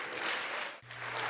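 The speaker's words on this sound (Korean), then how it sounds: "기립박수 26번을 포함해 모두 60번의 박수가 터져나왔습니다" Dense, loud applause fills the chamber during a speech to a joint session of the US Congress, sustained with a brief dip midway before resuming at full strength.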